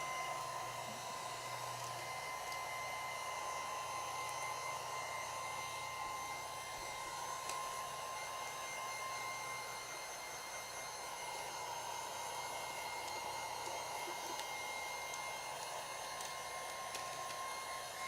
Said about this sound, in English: So I'm just keeping the heat gun moving.